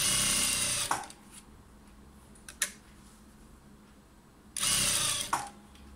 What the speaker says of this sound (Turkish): Overlock dikişinin altından lastiğimi dikiyorum.